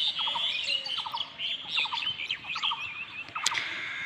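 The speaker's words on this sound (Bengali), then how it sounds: "এই যে এখানে বসে পাখিগুলো কোটর কোটর ডাকতেছে।" Birds calling outdoors, close and clear, with repeated quick chirping phrases and trills, a near kingfisher among them, over a quiet natural background with no talk.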